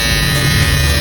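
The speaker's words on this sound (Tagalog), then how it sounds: "Grabe tong shaver na to." A 4-in-1 electric body shaver runs with a loud, steady close-up buzz and hum throughout the brief moment.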